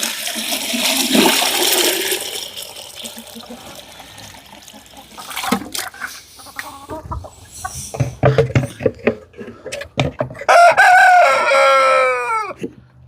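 A rooster crows loudly near the end, preceded by a rushing, flushing noise and scattered clucks and rustling.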